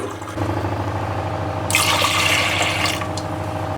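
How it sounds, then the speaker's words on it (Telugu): Water pours into pigeon pea lentils (toor dal) in a cooking pot to boil them for drumstick sambar, a rushing splash that starts partway through and runs for about a second and a half over a low background hum. "ఇందులో కొంచెం వాటర్ వేసుకోవాలి ఈ కందిపప్పును ఉడికించాలన్నమాట ఇప్పుడు వీటికి సరిపోయన్ని వాటర్ వేసుకోవాలి"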